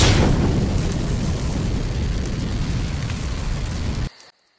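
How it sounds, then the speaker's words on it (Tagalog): A fire roaring steadily, dense crackling and rumbling filling the air loud and close, then cutting off abruptly near the end. "Tama, ito ay tunog ng apoy."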